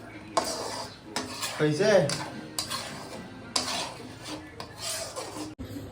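Fish cooking in a pan with a spoon scraping and clanking against the metal in repeated bursts of stirring, a light sizzle underneath, and a brief spoken word.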